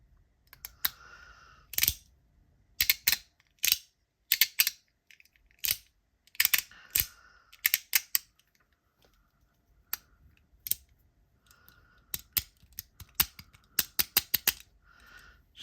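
Metal plates of a brand new fidget toy rattle and click in quick, sharp bursts, close and fairly quiet, with short gaps between clusters of taps.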